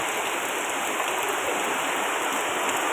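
Heavy rain falls outside a fifth-floor corridor at night, a dense, steady roar of water with no break in its texture. No voices are heard over it.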